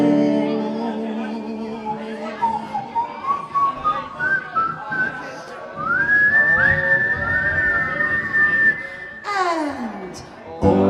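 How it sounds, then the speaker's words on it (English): A person whistles a melodic tune during an acoustic performance of a song. The clear, sustained whistle rises and glides over a soft accompaniment, and a voice chatters briefly at the end. "Just purse your lips and whistle, that's the thing."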